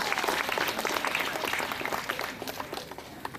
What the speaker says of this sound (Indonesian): mohon aplaus sekali lagi untuk kita semua